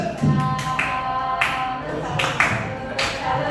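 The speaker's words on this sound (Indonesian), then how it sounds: "kita beri tepuk salut dulu Pak Nyoman" A group of teachers in a school discussion session clapping a rhythmic salute, with sharp separated bursts of claps at a regular pace and faint voices underneath.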